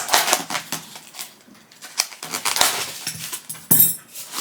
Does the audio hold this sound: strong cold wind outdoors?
no